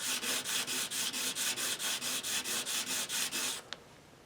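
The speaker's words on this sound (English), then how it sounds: "We'll just file it down a little bit with some sandpaper." Sandpaper rubbing across the bottom of a plastic guitar bridge piece on a Yamaha SG331: about fifteen quick, even scratchy strokes in steady rhythm, close and clear, ending with a small tap.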